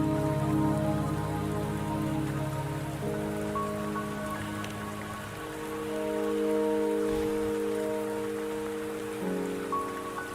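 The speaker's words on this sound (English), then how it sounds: "the rain won't last much longer" Rain falls steadily in the Wuthering Waves video game, a soft continuous patter under sustained background music tones, with no talk.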